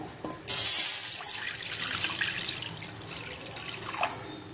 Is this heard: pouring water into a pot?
yes